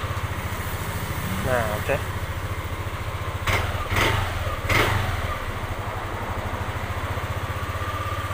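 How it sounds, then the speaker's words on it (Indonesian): A Yamaha Aerox 155 scooter with an MIL error code 12 and a starting fault idles steadily up close, with a steady low engine putter. A few brief clicks and a short spoken phrase come through over the running engine. "Kita naikkan standar dulu. Kita coba starter."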